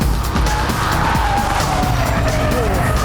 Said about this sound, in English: Car squirming around underneath to get a bit of grip over the blind brow onto the brakes